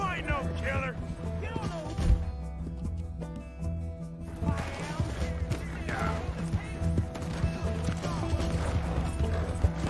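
Horse hooves in Red Dead Redemption 2, a steady clip-clop of the rider's mount with game effects around it, moderately loud, and a player talking over it.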